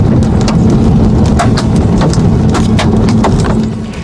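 Quarter-sized hail pounds a car during a storm near Grandview, a loud dense roar of impacts with sharp individual cracks scattered throughout, heard close from inside the vehicle with a steady low rumble beneath.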